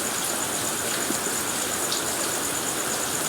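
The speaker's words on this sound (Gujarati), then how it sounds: "જોરદાર પાણી જઈ રહ્યું છે" Strong floodwater from upstream rain rushes past a roadside in a constant, loud broadband roar, steady and unbroken throughout with no voices.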